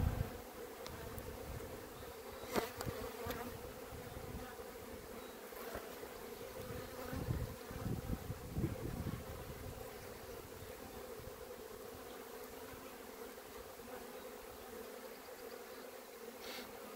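Honeybees buzzing around an opened hive during a queen cell inspection, a steady close hum of many bees with occasional louder passes near the microphone.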